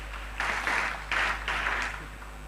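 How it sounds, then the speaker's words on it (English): A round of clapping from a seminar audience welcoming a speaker to the stage, rising in a few broad surges over a couple of seconds above a steady low hum in the hall. "Let's give a round of applause."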